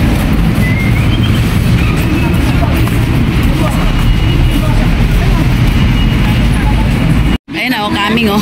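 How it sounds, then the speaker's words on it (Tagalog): A light rail train pulls into a station with a loud, continuous rumble and hiss that fills the platform, while people talk nearby; the sound cuts out abruptly near the end. "LRT is coming."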